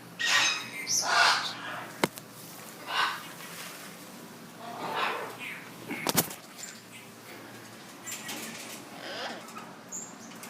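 A pet bird in a walk-in aviary gives scattered, harsh squawks and makes fluttering wing sounds, with a few sharp clicks in between.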